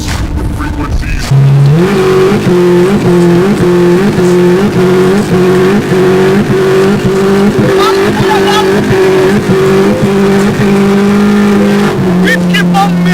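Toyota Starlet engine revving loudly and steadily with repeated throttle pulses and rising pitch, close up, over a continuous exhaust drone with voices partly mixed in.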